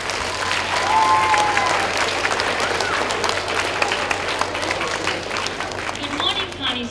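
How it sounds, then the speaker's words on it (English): Applause from a school assembly audience of students greeting the head of nursing, steady dense clapping throughout, with some crowd chatter and voices mixed in. "please give a nice, Carney round of applause to Miss Regan, head of nursing."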